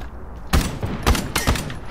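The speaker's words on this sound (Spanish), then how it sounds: "¿Por qué me sigue disparando?" Rapid bursts of gunfire in the first-person shooter video game Lost Light, three or four loud volleys in quick succession, each a sharp broadband crack with short decays between them.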